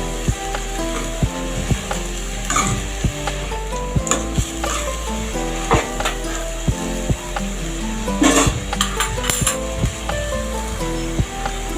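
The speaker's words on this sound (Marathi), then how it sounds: "परत भाजी चांगली वर खाली परतवून घ्यायची।" Spring onion greens with salt stir-fry in a pan: a loud, close sizzle under a low hum, with regular spatula scrapes and ticks every second or so and a busy flurry of strokes near the end.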